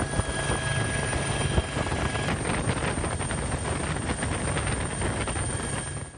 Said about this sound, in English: the Sri Lanka Air Force deployed a Bell 412 helicopter and a Y-12 aircraft to carry out reconnaissance and rescue operations